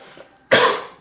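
A single sharp cough, close and loud, after a moment of near quiet.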